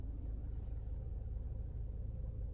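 A 2019 Ford Escape SEL AWD engine idles with a steady low rumble just after starting, continuous and fairly quiet throughout, with no talking.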